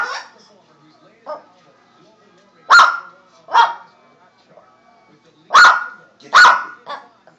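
A puppy yips and barks in short, sharp bursts, several spaced barks, close by and loud, with quiet gaps between them.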